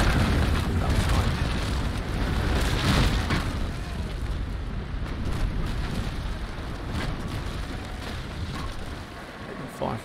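Cannon fire striking a ship during a naval battle in the game Naval Action, a continuous dense rumble of booms and crashing impacts that stays loud throughout, with no clear breaks between blasts.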